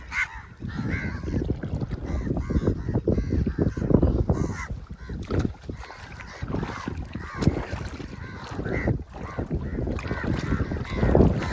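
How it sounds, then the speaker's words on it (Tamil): Crows cawing around a fresh fish catch by a lagoon shore in a village, harsh calls repeating among busy outdoor noise and water sounds, fairly close. "நீங்களே பாருங்க எவ்வளோ காகம் வந்துட்டு"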